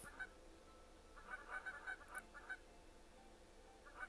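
Flock of geese honks in a video game, scattered bursts of calls clustered in the middle and at the end over a quiet background.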